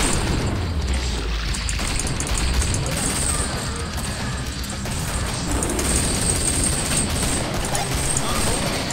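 Grenade blasts in the video game Killing Floor on the West London map, a dense, continuous wall of booming explosions and gunfire with no pauses, loud throughout.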